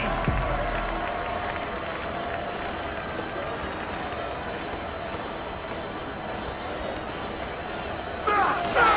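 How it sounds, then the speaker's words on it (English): An arena crowd in the basketball game NBA 2K25 roars after a dunk, a continuous wash of cheering and applause that lifts slightly at the very end. "The crowd likes a dunk"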